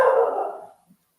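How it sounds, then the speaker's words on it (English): A single dog bark, loud and close, fading out within a second, followed by a faint short yip. "I can hear dogs."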